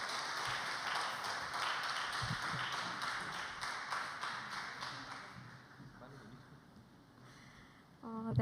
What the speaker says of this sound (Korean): 우리 격려의 박수로 우리 환희의 박수로